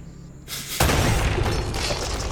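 Gunfire smashing priceless pre-Incan artifacts in the video game Uncharted: a sudden loud crashing boom with shattering debris that swells within a second and sustains as a dense rumble to the end.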